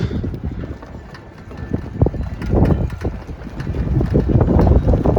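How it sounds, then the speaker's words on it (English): Loud, rumbling wind buffets the microphone continuously in Weston, West Virginia, gusting and swelling toward the end. "Very windy day here in Weston, as you can tell."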